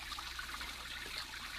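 A decorative fountain recirculating its water in an old-time radio drama, a soft steady trickle and splash under faint background hiss, continuous and fairly quiet throughout.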